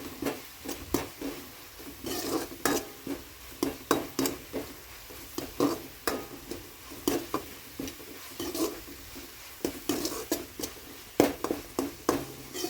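Spinach (palak) is stir-fried in a pan, with a close, repeated rhythm of spatula scrapes and stirring strokes over a soft, faint sizzle.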